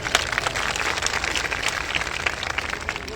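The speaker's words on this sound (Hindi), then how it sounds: "देखिए ताली बजा रही है।" Audience clapping at a Rahul Gandhi rally in Solapur, a steady patter of applause from a crowd of men and women lasting the whole moment, moderately distant with a hum of hall ambience.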